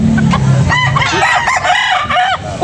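Roosters crowing at a busy chicken market in Carbon, Cebu City, several drawn-out cock-a-doodle-doo calls overlapping near and loud against steady crowd and market noise.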